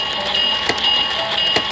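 A toy railway crossing set in steam locomotive mode plays its electronic passing sound: a steady, fairly loud tonal hum with sustained high whistle-like tones and two brief clack bursts, heard alone with no talking.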